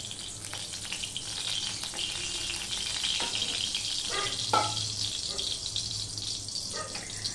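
White cooking oil hits a well-heated wok and sizzles steadily, a bright hissing wash with a few scraping clinks and soft knocks scattered through it, close and constant.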